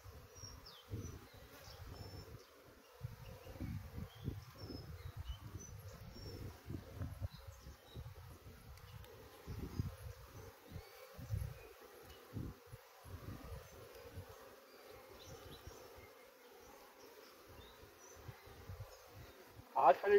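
A honey bee colony buzzes at an open hive, a soft steady hum with scattered low bumps and handling noises throughout, and a sharp sound at the very end.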